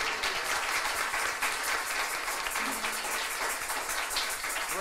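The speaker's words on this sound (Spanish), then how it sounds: "Un fuerte aplauso a nuestra Madre del Cielo." A congregation applauds during a year-end Mass in church, dense even clapping filling the space at a steady level throughout, with no voices over it.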